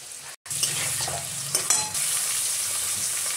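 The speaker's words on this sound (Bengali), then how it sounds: "দিয়ে দিলাম আলু, দিয়ে দিলাম নুন, দিয়ে দিলাম হলুদ গুঁড়ো," Potatoes with salt and turmeric sizzle loudly and steadily in a pan, broken by one brief silent gap near the start and a few clinks of stirring.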